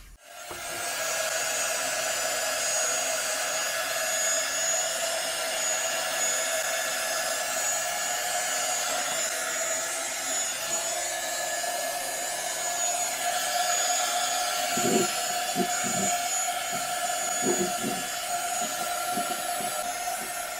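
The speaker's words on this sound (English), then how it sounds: "and we have the heat gun." A heat gun shrinks capsule material over the neck of a mead bottle, a steady moderate blowing whir that runs throughout, with a few faint knocks near the end.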